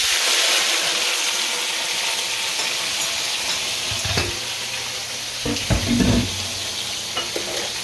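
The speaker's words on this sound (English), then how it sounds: "you need that much to fry it properly in the wok" Eggplant fries in hot oil in a wok, giving a loud, steady sizzle and crackle with occasional clinks and stirring knocks, and no talk over it.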